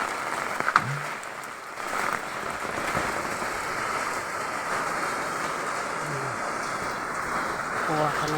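Steady rain falls through rainy weather around a home garden, a dense constant patter close by with a few faint knocks at the start.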